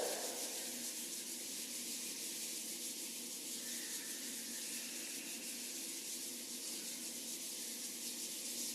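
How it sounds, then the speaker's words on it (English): Palms of the hands rubbing together, a steady soft papery swishing that runs continuously and quietly at close range with no talking. "Rubbing the palms together."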